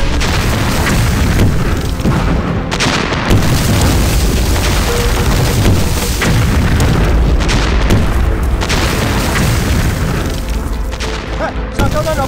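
A Japanese artillery regiment opens fire in a Chinese anti-Japanese war film: heavy booms and explosions roll on almost without pause, loud and dense, with voices shouting at times beneath the barrage.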